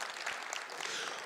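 An audience at an Indigenous speaking event claps in a steady wash of applause that fills the room at an even level, with no talking over it.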